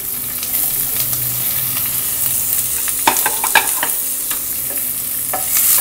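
Onions and green chili frying in a pan over medium-low flame, a continuous sizzle with a few sharp scrapes and clacks of stirring partway through, close and with no talking.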